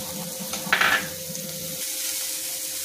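Masala being stirred into a Kolhapuri whole masoor dish in a pan, with a brief burst of sizzling and scraping near the start that settles into a low, steady frying hiss.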